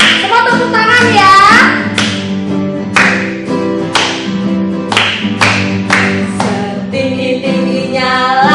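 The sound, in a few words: children clapping hands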